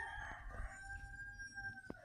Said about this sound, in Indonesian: Ayam berkotek-kotek dulu ya kan?